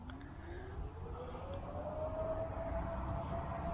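Distant shift-change siren at Newport News Shipbuilding, a long steady rising wail sounding far off beneath broadband outdoor background noise, with no talking.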